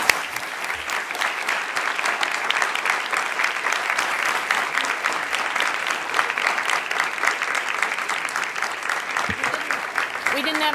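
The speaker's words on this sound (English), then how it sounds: "Let's have another round of applause." A crowd gives sustained, dense applause at the end of a presentation, loud and even throughout with no speech over it.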